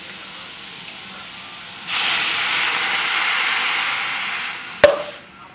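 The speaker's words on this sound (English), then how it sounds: "Now we'll just let this simmer for a few minutes." A pot of shirataki, wakame and bean sprout soup simmers with a steady, breathy steam hiss that starts abruptly partway through, followed by a single sharp clink near the end; no voices.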